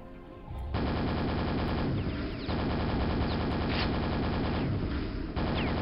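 Rapid gunfire from the shooter game Quake on a brutalist-style custom level, a loud continuous burst of shots that starts abruptly and runs with brief pauses, close and dominant throughout.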